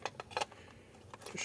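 Cutters make several faint, sharp snips and clicks as they cut into a cheap plastic AliExpress solar light.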